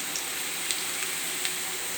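Ginger garlic paste sizzling in a pan with already fried onions, a steady close hiss of frying with a few faint pops and crackles, no voices.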